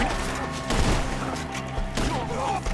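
Gunfire in the Red Dead video game comes as quick bursts of shots and booms at a shootout in the trees, heard under and between excited shouting voices.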